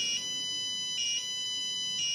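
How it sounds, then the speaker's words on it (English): An electronic water-level-full alarm from a LoRa water tank monitoring system sounds as a steady high tone, pulsing about once per second in three even bursts over a low hum, with no talking. "At one point, I got an alarm saying that the water level is full."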